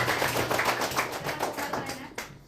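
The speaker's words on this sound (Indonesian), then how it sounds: "Tepuk tangan buat Marina" Applause from a group, likely a class, clapping for a girl named Marina, a steady patter of many overlapping hand claps filling the moment at moderate loudness before trailing off.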